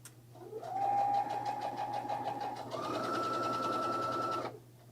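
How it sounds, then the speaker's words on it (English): A sewing machine runs a straight stitch with a steady, close mechanical whir that steps up to a slightly higher speed midway, then stops. "And I'm just going along, just using a straight stitch."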